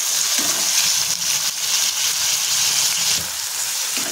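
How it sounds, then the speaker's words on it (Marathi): Chopped onion and finely cut tomato frying in a pan give a loud, continuous close sizzle with faint stirring, heard alone and without talk. "त्याच्यामध्ये कांदा टाकूया आणि आपल्याला त्याला परतून घ्यायचे"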